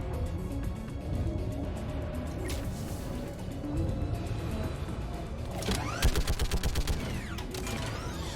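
Gunfire in the video game Mass Effect 3 comes as a rapid burst of sharp shots toward the end, over a dense, busy game soundscape of rumbling and mechanical noise.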